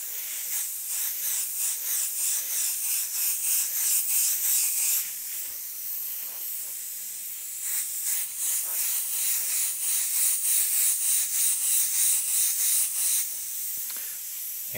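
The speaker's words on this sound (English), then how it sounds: "Use your air to dry the paint." An airbrush blows air to dry a light coat of paint, giving a steady, close, breathy hiss. The hiss pulses slightly in strength and drops briefly midway before resuming, with no voices.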